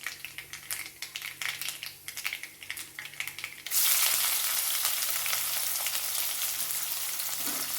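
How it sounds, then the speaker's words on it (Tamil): Chopped onion drops into hot oil in a pan with lentils, setting off a loud, steady sizzle that fills the rest of the clip after a few seconds of light clatter and stirring. "ஒரு பெரிய சைஸ் வெங்காயம் கட் பண்ணி வச்சுருக்கேன். நம்ம இதை இதில் கலந்துக்கலாம்."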